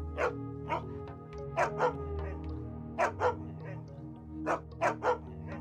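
Dog barking in the War Wind 2 strategy video game, several short sharp barks in clustered pairs and singles over a steady game background hum, fairly close and distinct.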